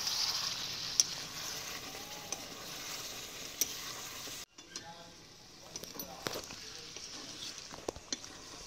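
Desi chicken curry stirred in a pan: a close, steady sizzle with scraping spatula strokes and occasional metallic taps, briefly dipping quiet before the stirring and sizzling resume.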